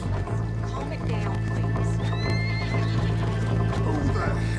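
A horse in Red Dead Redemption 2 neighs with a rising, shrill whinny as hooves clip-clop and a steady engine-like drone hums underneath, while people speak over the scene.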